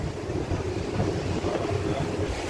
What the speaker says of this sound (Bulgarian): навънка много духа